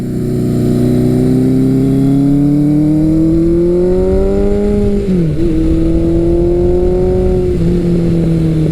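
A Suzuki GS1100L classic muscle motorcycle engine pulls hard under full acceleration, its loud, steady drone climbing in pitch, dipping briefly at two gear changes, then rising again.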